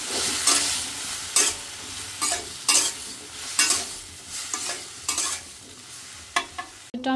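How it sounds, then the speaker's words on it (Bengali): Chopped tomatoes cook with ground spices in a pan, stirred in repeated scraping strokes over a steady, close sizzle, with no talking. "টমেটোটা দিয়ে নিছি সব গুঁড়া মশলাও দিয়ে নিছি আমি সব গুঁড়া মশলার সাথে মিশিয়ে নিই"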